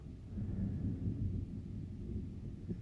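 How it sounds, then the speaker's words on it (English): Low, muffled thunder rumbles steadily through the whole stretch, quiet and distant, with no voices. "I think that thunder was synced."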